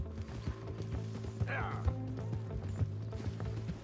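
Horse hooves clop at an even trot while riding in the western game Red Dead Redemption 2, a steady near rhythm mixed with creaking tack and mechanical rattles.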